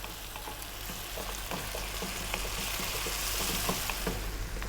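Spices and powders sizzle steadily in a pan over fairly lively heat for an Arab-style beef and potato stew, with a continuous bright crackle, occasional stirring scrapes and a low hum underneath.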